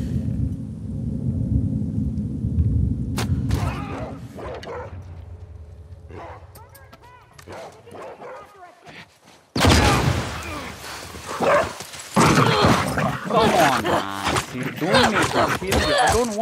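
Dogs bark in the video game The Last of Us Part 2 amid a storm-like rumble, with a burst of loud, busy game noise in the second half and a player talking over it.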